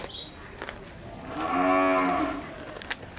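A Holstein Friesian heifer on a cattle farm lets out a single long, loud moo that swells and fades in the middle, with faint background noise around it.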